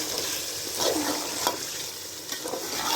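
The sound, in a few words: stirring and mixing chicken frying in a pan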